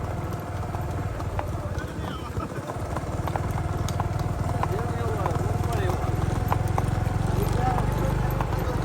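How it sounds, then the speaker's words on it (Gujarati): Three horses walk together along a green roadside in the monsoon, their hooves clip-clopping in a steady rhythm throughout, with a motor scooter humming along nearby. "મિત્રો તમે જોઈ રહ્યા છો ત્રણેય ઘોડા છે હારે હેલા આવે છે, શિવાની, હંસરાજ અને શેતક."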